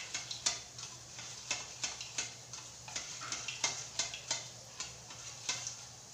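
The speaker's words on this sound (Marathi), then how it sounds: "ते मी आता फेटून घेतेय।" Yogurt whisked in a bowl for Maharashtrian kadhi, a steady run of soft, quick ticking strokes close by against a faint low hum, with no talking.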